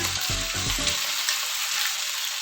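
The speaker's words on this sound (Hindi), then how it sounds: "शैलो फ्राई हम करेंगे पहले फ़िश।" Fish shallow frying in oil in a pan, a close, crackling sizzle with a few brief clattering stirs at the start, then a steady hiss, no talking.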